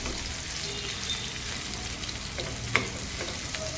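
Boneless chicken 65 fries in oil and is stirred in the pan, making a continuous close sizzle with a soft crackle and an occasional sharp tap of the utensil.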